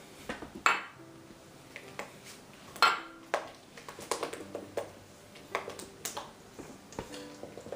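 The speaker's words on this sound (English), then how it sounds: "I'm going to throw in my egg whites one at a time. I mean, my egg yolks one at a time and stir them into the chocolate" Egg yolks being stirred into melted chocolate in a bowl for chocolate mousse, with a spoon or whisk repeatedly clinking and tapping against the bowl in uneven strokes, heard close and alone.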